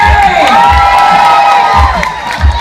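A loud crowd at a rock and roll show cheers and whoops continuously, with excited shouts rising over a dense roar.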